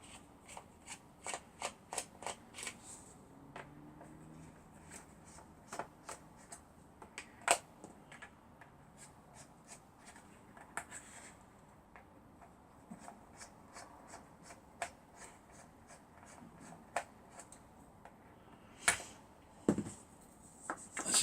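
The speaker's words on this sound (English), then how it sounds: "Just take the screws out that we can see and see what happens." Screws are taken out of a Bluetooth speaker during a workbench repair, giving many small, close clicks, ticks and rattles at an uneven pace over a quiet, steady background.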